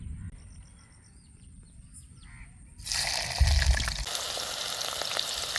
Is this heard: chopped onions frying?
yes